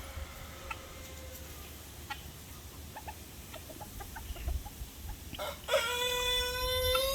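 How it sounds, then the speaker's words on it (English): A small bantam rooster on a homestead gives a few faint clucks over outdoor background noise, then breaks into a loud, drawn-out crow near the end. "Little banty rooster."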